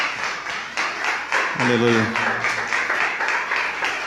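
Church congregation clapping steadily in a rhythmic beat, with a voice calling out briefly over the claps partway through.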